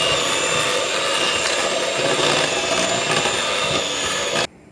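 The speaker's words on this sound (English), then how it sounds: "I'm just going to use the hand mixer." A hand mixer whirs steadily through walnut cake batter, a loud, continuous motor drone that cuts off abruptly near the end, with no talk.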